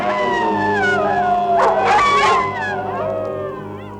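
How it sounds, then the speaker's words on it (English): A canine howl rises and wavers with tonal, gliding pitch, joined by yips and whimpering, fairly close and loud. "while the wolf in nightly prowl bays the moon with hideous howl"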